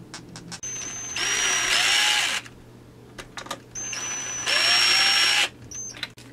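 A power drill tightens bolts on a chainsaw clone kit, a Farmertech 372xp copy, in two loud whirring bursts, each rising in pitch as the bolt seats, with short clicks and handling noises between them.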